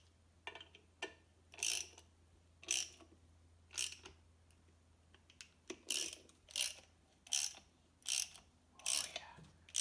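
A hand ratchet wrench clicks in repeated bursts while turning bolts on a Sea-Doo Speedster jet pump, about a dozen quick rasping strokes close by in a quiet workshop.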